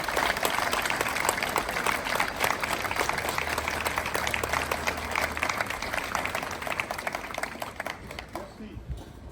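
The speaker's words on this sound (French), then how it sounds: "de les applaudir" A crowd applauds civil security cadets at a May 8 parade, with dense, sustained clapping that stays loud for most of the stretch and thins out near the end.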